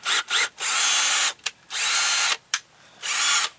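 A battery-operated drill fitted with a 3/4 inch paddle bit bores through wood during a dry-rot deck repair, running in four or five short whirring bursts separated by brief pauses, close and loud with no talking.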